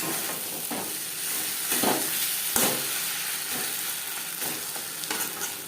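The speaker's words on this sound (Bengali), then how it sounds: "মাছের তেলের সাথে টমেটো বেশ ভালো করে মিক্স করে দেবো।" Sliced tomato stirred into bhetki fish oil in a frying pan over a gas flame: a steady sizzle with repeated scraping stirs of the spoon, close up and with no talking.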